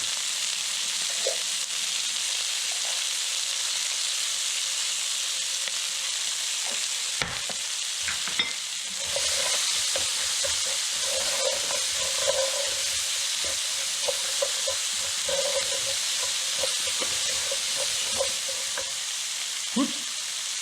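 Onions frying in a pan give a steady loud sizzle, joined midway by scraping and clattering as they are stirred, close up with no talking.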